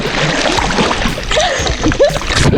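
Cold water splashes and sloshes in a bathroom while someone cools off after a very hot home bath, with a few louder splashes near the end against steady running-water noise.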